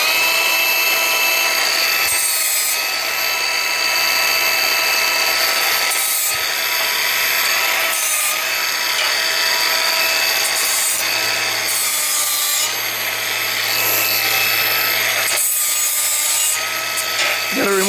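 Power tool grinding paint off metal before welding an attachment for a log splitter, a loud, steady abrasive whine with brief dips in pitch and load as it is pressed against the surface.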